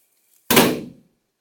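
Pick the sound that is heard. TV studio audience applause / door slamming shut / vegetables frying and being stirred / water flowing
door slamming shut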